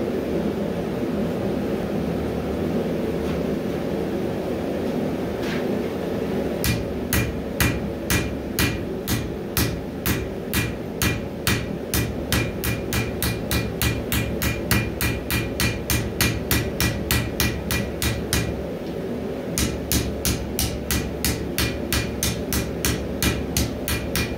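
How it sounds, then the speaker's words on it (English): Steady hammer blows forge the tapered edge of a 15-inch fighting Bowie knife blade, quiet at first and then a long run of sharp, ringing metallic strikes in a regular rhythm over a constant background hum, with no talking. "Start forging a little bit of the blade, the taper of the blade edge"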